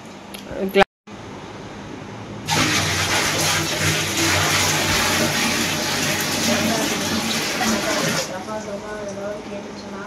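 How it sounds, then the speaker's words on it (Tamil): A bucket of water pours out in one steady, loud rush lasting about six seconds, following a brief knock, during home treatment of aquarium fish for lice and anchor worm. "ஸோ இன்னும் ஒரு பக்கெட் தண்ணி ஊற்றணும்."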